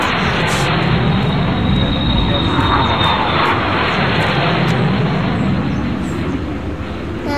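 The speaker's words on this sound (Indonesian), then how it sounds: "pesawat Hercules." A loud, steady Hercules military transport aircraft engine roar fills the whole stretch, broad and rumbling, easing slightly toward the end.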